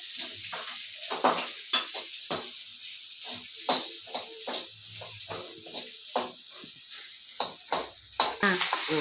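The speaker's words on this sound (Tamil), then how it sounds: "கருவேப்பிலை வெங்காயம் போட போகிறேன்" Curry leaves and onion hitting hot oil in a pan for a goat blood fry, a bright crackling sizzle broken by repeated spatula stirs and scrapes in an uneven rhythm, close and without talking.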